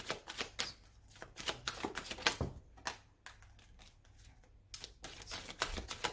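A deck of tarot cards is cut and shuffled by hand: a quiet, close series of crisp riffling bursts and slaps in uneven rhythm, separated by short pauses.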